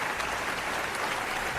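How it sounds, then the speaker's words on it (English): Enthusiastic studio audience clapping on a comedy show, a dense continuous wash of applause that stays steady and fairly loud throughout with no voices breaking through. "You can please stop clapping for 5 minutes, please."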